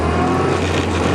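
Classic Mini car driving steadily, its engine a loud, constant low drone with a firm hum close by, heard alone for a brief moment.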